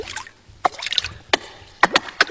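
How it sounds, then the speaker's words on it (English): Water flicked by hand as a musical instrument in a performance, giving a handful of short, crisp splashes and droplet hits spaced irregularly, close and fairly quiet with soft pauses between. "We play water as an instrument itself. You know, you can do different techniques like flicking"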